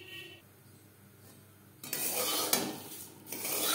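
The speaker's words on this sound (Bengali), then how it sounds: "আমি কম তেলে চিড়ে ভাজা তৈরি করছি।" Flattened rice (chire) being fried in a little oil and gently stirred in a pan, a dry scraping, rustling sizzle that starts quiet and turns loud and steady partway through.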